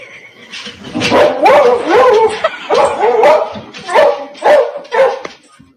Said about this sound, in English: when the horse race starts, she barks like crazy while jumping up and down on her hind legs